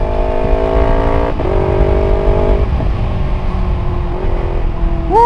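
A motorcycle on a road accelerates hard and close, its engine note climbing through several gear changes before easing off near the end.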